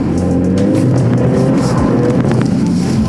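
Toyota GT86 drifting, its engine roaring loud and steady up close with a continuous rough growl and hints of tire noise throughout.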